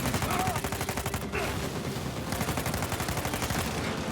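Continuous rapid automatic gunfire from a vehicle chase in Uncharted 4, a steady pulsing stream of shots at full loudness under game noise, with a faint voice briefly present.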